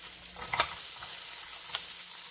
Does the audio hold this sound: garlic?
yes